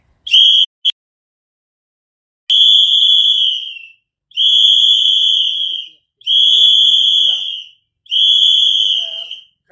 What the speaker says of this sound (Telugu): ఒక 5 రూపాయలు ఖర్చు పెడితే ఇలాంటి విజిల్స్ వస్తాయి